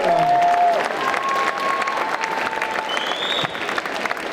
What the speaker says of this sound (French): On les applaudit 8 millions de fois.